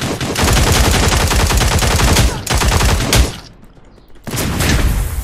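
Dense, rapid gunfire from the game Cyber Hunter, loud and continuous, with a brief lull before the shooting starts again.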